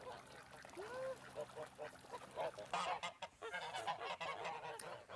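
Geese honking repeatedly at close range on a farm as they wait to be hand fed, mixed with duck and fowl calls, faint trickling and some talking in between.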